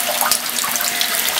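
Water flowing steadily through an electric RIMS sparge water system at a constant rate, a continuous close rushing, splashing sound like a running tap.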